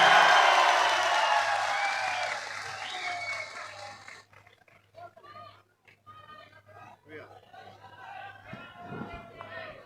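Crowd applause at a Haryana Congress workers' convention, a dense wash of clapping and cheering for the first four seconds, then fading out as a speaker's voice takes over.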